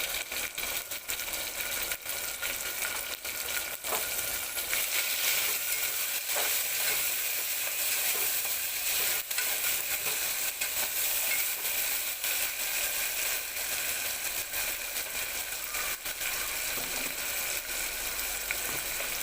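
Tomato pieces sizzle and fry with ginger garlic paste in a pan, a steady loud crackling hiss with occasional stirring scrapes, continuous and close throughout.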